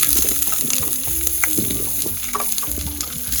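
Mackerel dropped into hot oil in a hotel kitchen in Goa, giving a close, bubbling sizzle with a few clatters and scrapes, over low kitchen hum.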